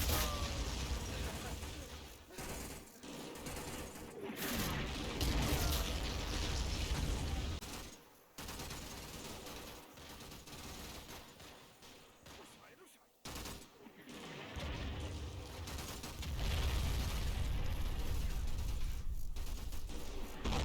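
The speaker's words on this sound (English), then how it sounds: "Fire for effect. Mortars start to fall north of A Company's form-up point." Mortar shells landing and small-arms gunfire in the Combat Mission video game, set at Monte Cassino, heard as repeated loud blasts and crackling bursts with brief lulls.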